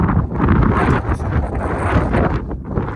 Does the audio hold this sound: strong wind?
yes